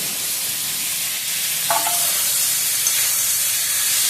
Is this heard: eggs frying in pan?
yes